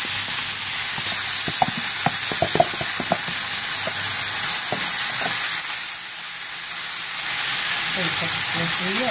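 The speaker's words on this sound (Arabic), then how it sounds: "غنشحرو دابا البصلة ديالنا" Steady loud sizzling of onion frying in table oil, with occasional scraping and stirring clicks and a brief dip in the crackle midway.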